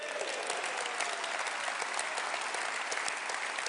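Sustained applause from a conference audience at a UK Liberal Democrats party gathering, a dense steady wash of many hands clapping at once with no pause throughout.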